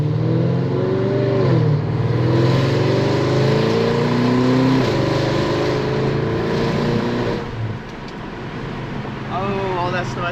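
500WHP Audi S6 driving on a snowy road after a blizzard, a steady close engine drone that climbs in pitch through the gears, dips briefly, and ends with someone talking over it.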